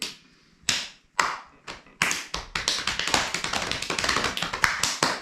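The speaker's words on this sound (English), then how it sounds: "Clap, clap. You've got to clap." Hand claps in a television studio setting: a few isolated, sharp claps with pauses between them, then a quickening run of steady, close, loud claps.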